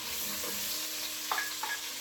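Onions and carrots fry in a pan with a steady low sizzle, broken near the end by two brief scraping stirs.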